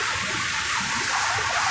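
Rushing floodwater of the Kozhikkarai river in the Western Ghats forest near Kotagiri, Nilgiris, a steady loud broadband roar and gurgle that runs unbroken throughout with no voices.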